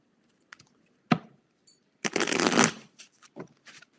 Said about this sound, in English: If I don't shuffle, then I get the same cards over and over.